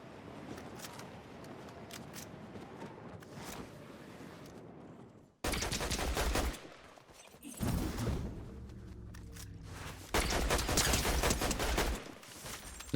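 Shotgun blasts in Fortnite Zero Build, several loud sharp bursts cut up by pauses with game effects around them, no voices.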